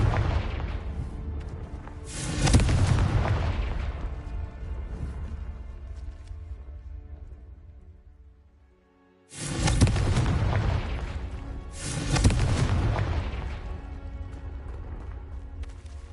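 Spell blasts from the Confringo blasting charm in Hogwarts Legacy: two or three loud, booming explosions with rumbling decay, the first around two seconds in and a pair near nine and twelve seconds, separated by a quieter lull.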